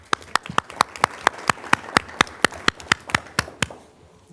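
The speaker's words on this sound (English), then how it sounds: "So with a round of applause, thank you so much." A round of applause at a school board of education meeting: a small group clapping in a quick, irregular run of sharp claps that thins out and stops near the end.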